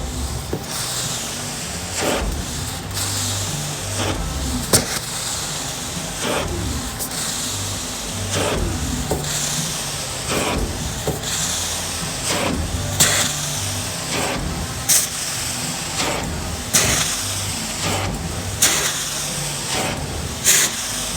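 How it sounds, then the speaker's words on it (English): A carpet cleaning machine rinses a pub carpet with a loud, steady spraying hiss and whirring suction, broken by repeated sharp surges and clicks as the wand passes back and forth. "Okay, so we're going to rinse this carpet now."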